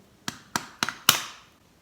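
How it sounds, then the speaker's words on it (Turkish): Someone struggling to open a coffee container, four sharp, close clicking snaps in quick succession, each with a short ringing tail, the last one loudest, with no talk. "İlk olarak bu kahveyi açıyorum."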